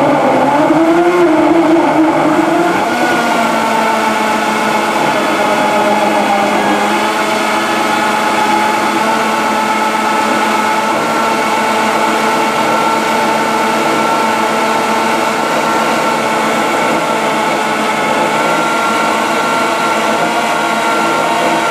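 A blender motor whirs loudly and steadily as it purées raw pumpkin with water, the pitch dipping briefly at the start as the load catches, then holding a constant drone with no talk.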